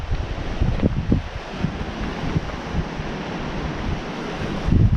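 Ocean waves at high tide in Woody Bay, rolling in as a continuous loud wash of surf with heavy wind buffeting the microphone, no voices present.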